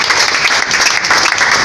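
Loud, dense applause from a church congregation at a healing service, continuous and close for a short burst.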